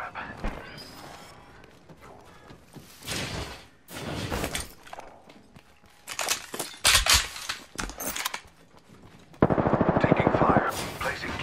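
Apex Legends gunfire arrives as scattered loud bursts and single shots of varying distance, ending in a rapid automatic stream, mixed with clanks, scrapes and game sounds.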